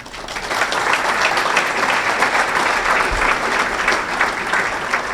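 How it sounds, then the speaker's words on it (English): At the Westlake Hall of Fame Ceremony 2022, a hall audience applauds in a thick, sustained roar of clapping that swells after a brief start and stays loud until the end. "a round of applause for Dr. Goggin"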